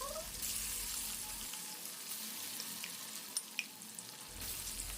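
Hot oil heating in a wok (kerahi) for chicken pakora gives a continuous soft frying sizzle, fairly quiet and steady, with a couple of faint clicks near the end.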